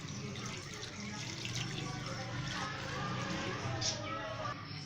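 Water pours steadily into a cooking pot over chicken for soup with a continuous splashing rush, and a voice talks faintly beneath it.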